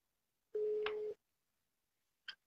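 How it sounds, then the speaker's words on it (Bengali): A phone call's ringing tone sounds once as a single clear electronic tone lasting about half a second, followed by a short faint blip in near silence. "আসাদ নূরকে ফোন দিব এখন"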